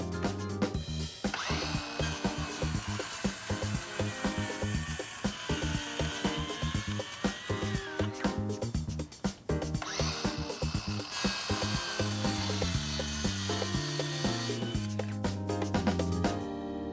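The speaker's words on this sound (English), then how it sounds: "make a fence for my skill saw so that I can still get a good straight cut" A circular skill saw cuts wood along a straight edge clamped down as a fence, its steady high whine running loud and continuous for most of the stretch, briefly dropping out midway, beneath a rhythmic musical backing with no talking.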